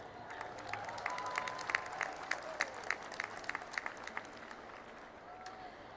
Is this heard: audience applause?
yes